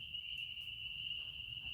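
Crickets, katydids and frogs at night, a steady high-pitched insect trill that runs unbroken and fairly faint, with soft low background noise beneath.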